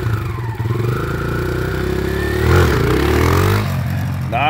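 A 5-speed dirt bike engine revs loudly in first gear, its pitch sliding up and down then swelling briefly before easing off, close by and steady throughout.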